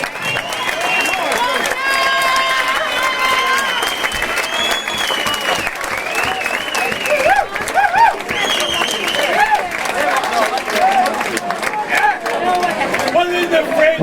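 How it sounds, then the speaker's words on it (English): Sustained loud crowd applause and cheering at an amateur boxing event after a bout, dense clapping with shouts and a voice over a loudspeaker throughout. "Big round of applause"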